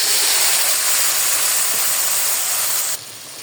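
Loud, steady sizzle of chillies frying in a hot pan with spiced fish bhuna masala, a dense continuous hiss that drops abruptly near the end to a softer simmer.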